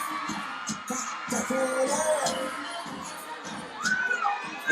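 An audience at the Ponniyin Selvan anthem launch at Anna University cheers, shouts and whoops to welcome actor Karthi onto the stage, a lively, fairly distant crowd din with rising bursts.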